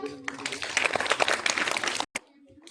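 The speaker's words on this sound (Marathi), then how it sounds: "टाळ्या." A quiz-competition audience applauds a young contestant, a dense, steady wash of clapping from many hands that swells for about two seconds, then cuts off abruptly into near silence.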